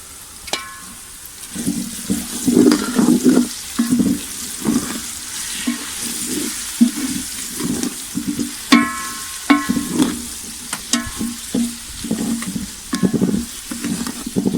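Grated carrots and onion fry with chicken powder in a pan for chicken fried rice, giving a steady sizzle under repeated scraping stirs of a spatula, close and moderately loud, with no voices.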